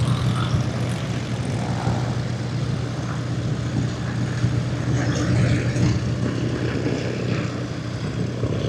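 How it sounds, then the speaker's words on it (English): Experimental propeller airplanes taxi in a parade at an airshow, producing a steady, fairly loud droning engine hum with a constant low tone and no breaks. "These are experimental airplanes, folks."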